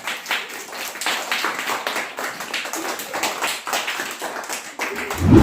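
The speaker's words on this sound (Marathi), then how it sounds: "सर्वांनी टाळ्या वाजवा" A group of people claps steadily and continuously for several seconds for the winning team in a group game, a busy patter of many hands close by.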